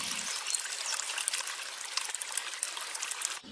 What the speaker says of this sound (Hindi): वे खालिस दूध में पानी मिलाकर उसे 4 बाल्टी कर देता है।